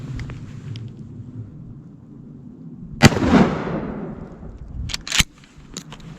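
A single loud close blast from a Remington TAC-14 shotgun loaded with number 4 shot, fired at a turkey target 25 yards away outdoors, with a short rolling echo and a few sharp clicks after.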